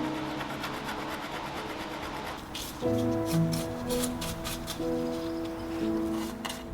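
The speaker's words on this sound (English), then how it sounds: "Between coats, I'll gently file back some of the dings and scratches." Steady back-and-forth rasping of a file smoothing dings and scratches on metal parts of a vintage Art Deco radio cabinet, close and moderately loud, with quiet tonal music starting partway through.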